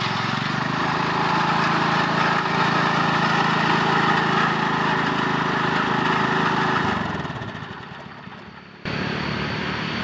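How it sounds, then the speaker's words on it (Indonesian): A diesel engine drives a winch hauling steel cable while clearing branches from an old trembesi tree, running as a loud, steady drone that eases down near the end, briefly cuts out, then resumes. "Alat mesin penggerak iki gawe diesel, jadi diesel kaki ngerol selinge ya."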